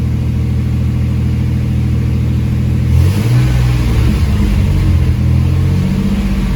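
The engine of a 1992 Chevrolet S10 holds a steady rev around 1500 RPM, a loud, continuous low rumble that rises and shifts slightly partway through.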